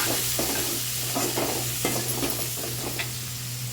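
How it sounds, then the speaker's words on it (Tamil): Small onions sizzling in a pan for a sundakkai kuzhambu, a steady close frying hiss broken by intermittent scrapes and stirring knocks of a spoon, over a low hum. "சின்ன வெங்காயம் கட் பண்ணி வச்சுருக்க வெங்காயமும் இதில் சேர்த்துடலாம் சேர்த்து வெங்காயம் நல்லா வதங்கட்டும்"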